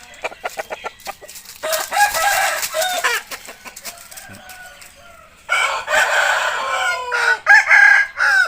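Chickens clucking and a rooster crowing, with several short bursts early on and louder, denser calls toward the end; no talking.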